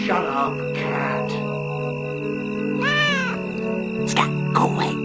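A cat meows several times in the Atlantis 3 adventure game, drawn-out wavering cries over a steady hum, with a voice speaking around them.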